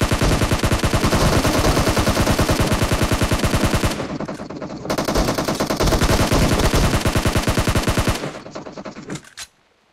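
Loud rapid automatic gunfire rattles in long bursts, briefly thins out, resumes, then trails off into a few final shots.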